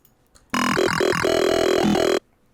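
A Serum wavetable synth plays a vowel-like, retro talking tone on a minor chord, a loud sustained note of under two seconds with shifting formant-like wobbles, alone and without voices.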